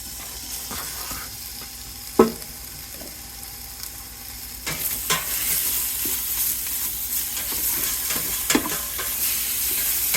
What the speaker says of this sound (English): So here we're going to start our bacon.